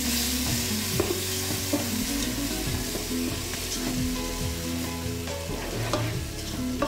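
Chopped tomatoes frying in a pan for homemade ketchup, a loud continuous sizzle with brisk, repeated stirring scrapes and clinks close by, no talking.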